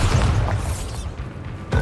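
A Bombarda spell blast in Hogwarts Legacy: a heavy, rumbling boom that starts loud and slowly decays, with a second thump near the end.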